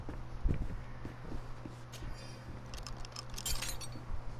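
Keys jangle and clink after a chest is unlocked in Greedfall, a few light metallic rattles scattered over a quiet game ambience, fairly close and soft.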